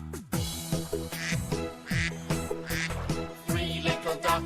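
A voice imitates a duck, singing a rhythmic 'quack' sound in a children's nursery song about little ducks swimming on a pond, set over steady, bright musical accompaniment.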